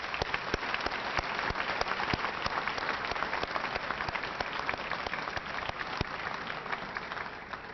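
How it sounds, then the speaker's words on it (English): Sustained applause from an audience at the 41st Department of the Army Philip A. Connelly Award ceremony in Atlanta, Georgia, a dense, steady wash of many clapping hands that holds evenly throughout without voices. "another round of applause."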